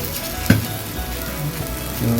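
Fresh small shrimp (kolim) fritters sizzle steadily in a hot pan, a continuous close frying hiss with a brief clatter near the start as batter goes in, no voices.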